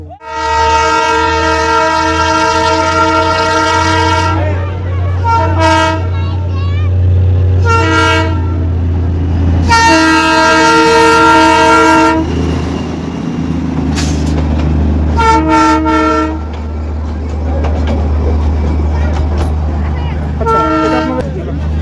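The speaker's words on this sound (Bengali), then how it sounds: "সেটা হচ্ছে যে এটা স্টিম ইঞ্জিন নয়, এটা ডিজেল ইঞ্জিন।" A diesel engine of the Darjeeling toy train rolls past at Batasia Loop, its horn sounding in repeated loud toots over a steady low rumble of the moving train.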